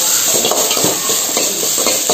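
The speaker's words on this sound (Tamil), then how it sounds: "இதை நல்லா வதக்கி விடுங்க. ஃப்ளேமை கொஞ்சம் வந்து பெருசு பண்ணிட்டு வதக்கலாம்." Freshly picked vallarai leaves sautéing with salt in a pan over a raised flame, a steady sizzle with soft, repeated stirring scrapes close by.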